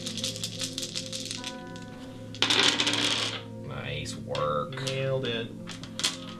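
Six dice rolled for a Betrayal at House on the Hill board game, a quick clattering rattle tumbling onto the table amid close table noise, with people talking.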